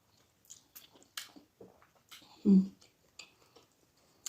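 Poundo yam with mixed okro and ogbono soup is eaten up close, with quiet soft chewing and squishy bites scattered throughout and one louder wet bite midway.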